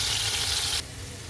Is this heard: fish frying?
yes